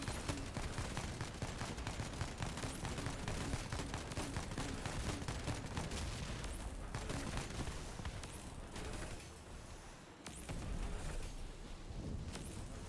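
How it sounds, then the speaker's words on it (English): A grenade machine gun fires in the vehicle combat game Crossout, a dense rapid string of thumping blasts, loud and continuous with short pauses in between. "it machine guns out freaking grenades"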